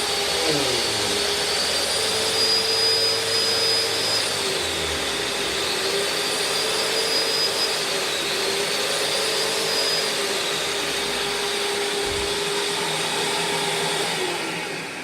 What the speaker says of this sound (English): So the power nozzle sounds great. It runs fine.